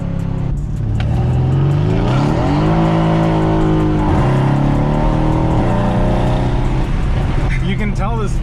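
A Mercedes-AMG C63 S of the W205 generation revs hard while drifting, its engine note climbing and falling in loud sweeping pitch across the clip, with tire squeal mixed in near the end and voices talking over the engine throughout.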